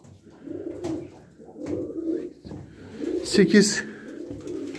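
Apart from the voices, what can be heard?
pigeons cooing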